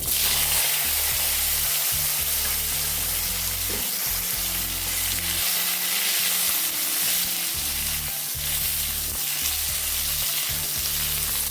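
Sliced potatoes sizzle steadily in a pan of hot oil with lightly fried black cumin, a loud, continuous crackling fry with occasional stirring and no talk.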